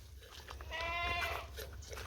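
A single goat on a goat farm lets out one clear, close bleat in the middle, set against quiet outdoor ambience.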